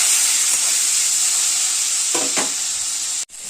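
Chopped tomato fries in hot oil for Bengali paneer aloo dalna, giving a loud, steady sizzle with a few soft stirring scrapes and a brief dip near the end.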